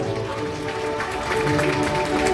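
Wedding guests clap together in a wedding hall, a dense sustained patter of hands over a low hum of music or room tone, steady and fairly loud throughout.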